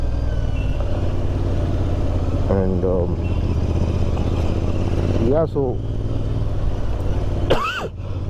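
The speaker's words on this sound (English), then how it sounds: "I love the sound that these exhausts make." Royal Enfield Interceptor 650 with Powerage exhausts, Fuel X Pro and NGage air filter, rumbling steadily while being ridden, loud constant engine drone with brief shifts, a rider talking over it.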